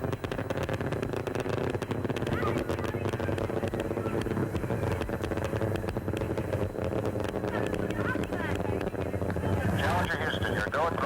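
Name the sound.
Space Shuttle Challenger engines during ascent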